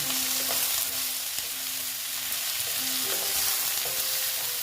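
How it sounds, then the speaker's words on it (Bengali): Potato, onion and aubergine frying in oil in a pan, a close continuous sizzle with spatula scrapes and stirring clatter throughout; no talking. "আমার আলু আর পেঁয়াজ তো মোটামুটি ভাজা হয়ে গেছে বেগুনটা পরে দিলাম"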